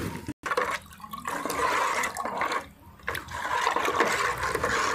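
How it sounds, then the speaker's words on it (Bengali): Liquid fertilizer of fermented oil cake mixed with 20-20-20 NPK, stirred in a container, giving a continuous loud sloshing and swirling of water with brief pauses. "এইভাবে নাড়িয়ে সুন্দর করে মিশিয়ে নেওয়া হবে খোলকে, তার সঙ্গে যে এনপিকে দেওয়া হয়েছিল সেই এনপিকে।"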